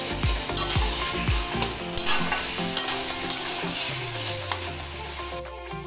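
Taro leaves frying in a pan while being stirred, bringing a constant sizzle broken by repeated scraping and knocking of the utensil against the pan, close up with no talking.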